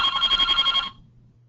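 A telephone bell rings with a rapid trilling burst for most of a second, loud and clear indoors during a webinar, then cuts off, leaving a faint low hum behind.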